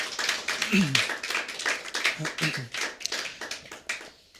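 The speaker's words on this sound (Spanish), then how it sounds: "Dale un fuerte aplauso a Jesús." A church congregation claps along in a rhythmic series of fairly faint hand claps, steady beats spread across the whole stretch.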